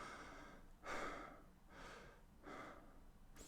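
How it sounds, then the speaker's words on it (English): Mouth breathing, three slow airy breaths in a row, fairly close, each a soft rushing exhale and inhale, with no talking. "now this is me breathing through my mouth."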